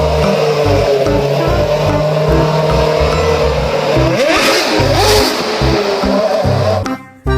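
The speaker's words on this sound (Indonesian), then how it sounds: "Yang ini ada mobil balap F1." A toy F1 race car plays a loud, continuous electronic engine-revving sound with rising and falling pitch sweeps, ending with a brief cutoff and click.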